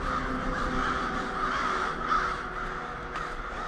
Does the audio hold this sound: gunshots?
no